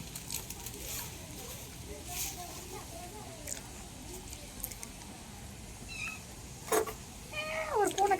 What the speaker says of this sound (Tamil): ஒரு பூனை கட்டுது பாத்தீங்களா?